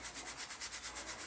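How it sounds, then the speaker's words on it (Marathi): Sugar being sifted through a sieve for homemade pan-made biscuits gives a faint, steady rhythm of soft scratchy shakes, about ten even strokes in quick succession. "साखर चाळून घ्यायची अशी"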